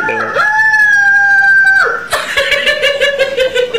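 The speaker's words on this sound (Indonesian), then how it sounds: "bikin konten tentang ayam berkokok" A rooster crows loudly and close by, one long drawn-out call followed by a second, higher crowing burst.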